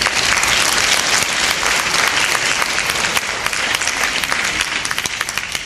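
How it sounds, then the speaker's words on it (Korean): Dense, steady applause from an event audience welcoming the final team at a Korean smartphone game presentation contest, loud and sustained throughout with no talk over it. "마지막 팀 소울스 레볼루션 큰 박수로 맞이해주시기 바랍니다."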